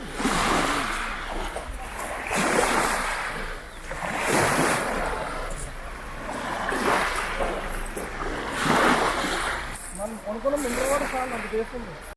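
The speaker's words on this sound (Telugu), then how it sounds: "ఆ సముద్రం శబ్దం ఎలా ఉంటుందో దాని చిన్న చిన్న అలల శబ్దం ఎలా ఉంటుందో ఇప్పుడు విందాం" Gentle wavelets on the Sea of Galilee shore wash in and recede every couple of seconds, a close, hissing lap with some wind buffeting.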